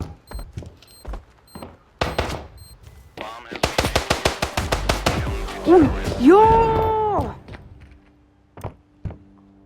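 Rapid bursts of video game gunfire crack in quick succession, followed by a few scattered single shots and brief electronic tones.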